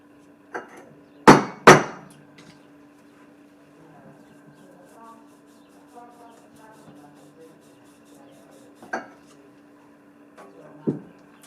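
Espresso grounds pressed with a tamper in a portafilter, marked by a few sharp knocks: a loud pair near the start and two lighter taps later, with a faint low hum and quiet speech between.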